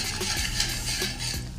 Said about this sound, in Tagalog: haluin lang ng haluin hanggang sa lumapot siya